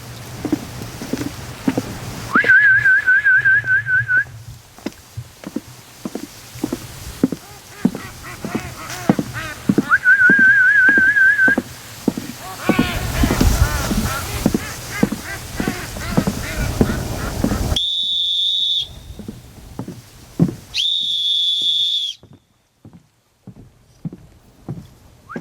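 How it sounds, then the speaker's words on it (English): A high, reedy duck-calling whistle is blown in a few sustained bursts outdoors by a lake in the rain, over steady patter and splashing, with quiet gaps between blasts. "we're going down to the lake right now to give the new whistle a try."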